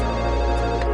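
A telephone rings with a loud, sustained electronic tone filling the moment, steady and unbroken with no talk over it.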